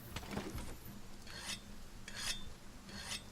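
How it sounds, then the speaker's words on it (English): A weapon is sharpened with a whetstone in Monster Hunter World: four separate rasping scrapes, about a second apart, sound clearly and close without any talk. "I shall use a whetstone"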